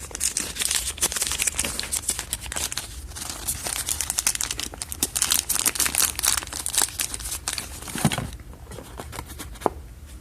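Close, continuous crinkling and rustling of a plastic bag being handled and opened for around ten seconds, with irregular crackles and a few sharper tears.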